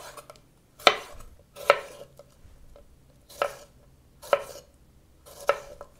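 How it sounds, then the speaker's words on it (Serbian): A knife chops red, green and yellow bell peppers into strips on a cutting board, giving six sharp, separate knocks at uneven intervals with quiet gaps between them, close and clear. "Očistit ću ovaj središnji deo i iseći ovako na trakice."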